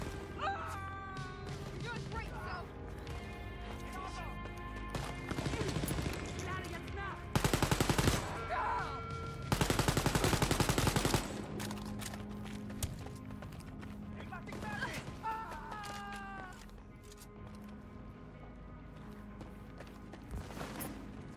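Bursts of automatic gunfire from the shooter game Wolfenstein: Youngblood, loud dense volleys around the middle amid game music and effects, with people talking throughout.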